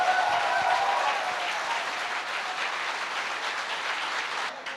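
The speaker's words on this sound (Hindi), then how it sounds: "गुरु जी के लिए एक जोरदार तालियां होनी चाहिए।" A large crowd applauding, dense sustained clapping that holds steady for several seconds before tapering off at the end.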